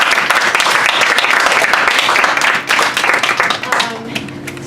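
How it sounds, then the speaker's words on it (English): An audience at a salon lounge show claps in a lively round of applause that thins out and fades toward the end, with a few faint voices and a low hum underneath. "So everybody, we give a round of applause again"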